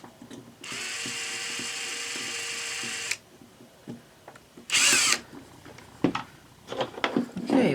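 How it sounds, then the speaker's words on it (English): A power drill whirs steadily for about two and a half seconds. Ratcheting clicks and a short sharp mechanical burst follow, with faint handling sounds around them. "I need to drill a hole like right there."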